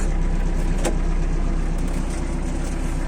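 A small Japanese Iseki 48 tractor engine drones steadily at close range while pulling a heavy 2.7 m cultivator through a field at night, a constant low rumble without pauses.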